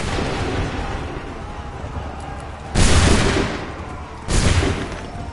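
Musket volley fire in Assassin's Creed 3: two loud ragged bursts of massed shots a second or so apart, each rolling off into a rumble over steady battlefield noise.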